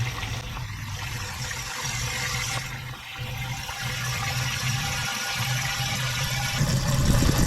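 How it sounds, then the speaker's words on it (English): Water bubbling and rushing steadily from a Flowrite aerator pumping into a filling bait tank, a continuous churning wash with a low motor hum underneath, growing slightly louder toward the end. "this flowrite aerator will actually start aerating the water"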